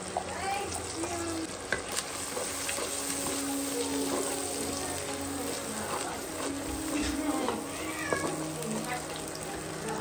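Goat head meat frying in a pan with ginger, garlic, turmeric and curry leaves, a steady broadband sizzle with stirring clatter throughout and a few faint animal-like cries in the background.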